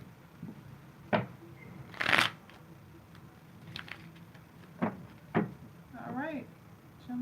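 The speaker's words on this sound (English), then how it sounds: "One more shuffle and I'll get right into it." Tarot cards are shuffled by hand in a few quiet, brief riffling bursts spaced apart, with a soft voice heard faintly near the end.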